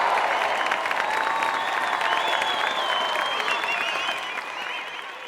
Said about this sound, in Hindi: तालियां बजाओ ना जोरदार।